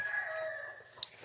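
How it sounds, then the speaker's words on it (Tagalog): A rooster crows briefly at a distance on a rural Filipino homestead, a faint drawn-out call with a soft click near the end and no one speaking. "Ay, may manok pa."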